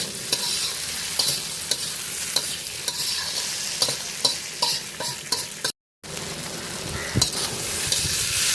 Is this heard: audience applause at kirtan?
no